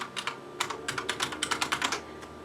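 Typing on a computer keyboard while working in DOS, a quick run of crisp, close key clicks in an uneven rhythm with no talking.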